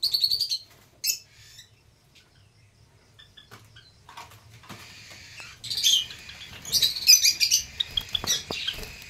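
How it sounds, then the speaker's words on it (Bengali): Small caged lovebirds chirp in quick, high-pitched bursts close by, the tweeting growing busier and louder toward the end. "এই দেখো সব লাভ বার্ড রয়েছে"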